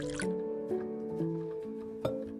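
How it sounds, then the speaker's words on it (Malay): Custard batter of eggs, vanilla and hot milk is strained and poured into a cake tin, giving soft liquid drips and splashes over a low steady background hum, with a few brief splats. "Tapiskan adunan ke dalam loyang."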